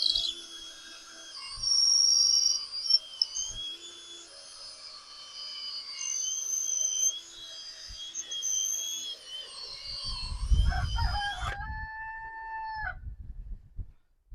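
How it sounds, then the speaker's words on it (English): Roosters crow repeatedly on a horse farm in the morning, several long calls overlapping, while guinea fowl add brief harsh calls and a low clatter of activity rumbles near the end. "Everybody's chipper this morning between the guineas and the roosters."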